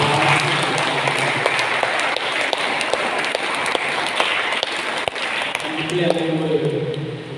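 Clapping from a church congregation on the second Sunday of Easter, a dense steady patter running throughout, with speech and other voices audible over and under it, especially toward the end.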